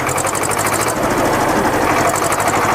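Mahindra 255 diesel tractor engine running steadily nearby, a loud continuous rattling chug with a fast even knock throughout.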